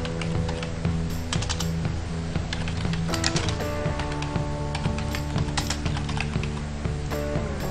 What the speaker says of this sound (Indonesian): silakan selanjutnya adalah ketik teks yang ingin Anda tampilkan